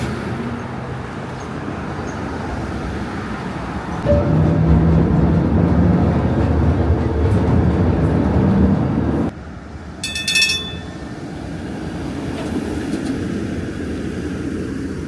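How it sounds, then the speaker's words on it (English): San Francisco streetcar riding toward Fisherman's Wharf, heard from inside as a continuous low rolling rumble that swells louder midway, then drops back, with a brief bright ringing burst near the end. "I think we're gonna hop this streetcar back to Fisherman's Wharf"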